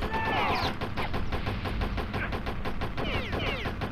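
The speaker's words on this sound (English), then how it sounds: "I actually prefer the machine gun because it seems to work the best for long distance shots." Rapid bursts of machine gun fire from the video game Going Postal rattle continuously and loudly over ambient game sounds, with no voices.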